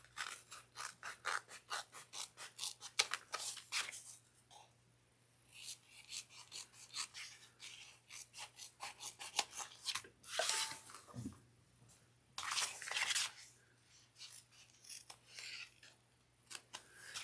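Scissors trim the sewn seam allowances of a fabric bucket bag in quick bursts of crisp, close snips, first a rapid run, then scattered clusters separated by pauses.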